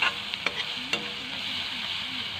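Onions and peeled garlic fry together in a pan, making a soft, steady sizzle with a few sharp clinks and scrapes from stirring near the start. No voices are heard.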